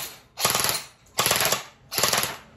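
An LT 19T G2 airsoft gun fires three full-auto bursts, each a rapid buzzing rattle of shots lasting about half a second, loud and close, with brief pauses between bursts.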